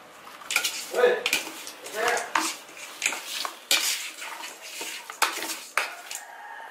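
Chicken larb ingredients are stirred in a pot, giving close, irregular metallic scrapes and clanks of a utensil against the pot, repeating steadily with a faint voice beneath.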